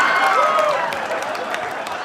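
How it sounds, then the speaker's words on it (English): An audience at a comedy show claps and murmurs, a broad wash of applause that peaks early and then thins into scattered claps over about two seconds. "I can't believe you clapped about that."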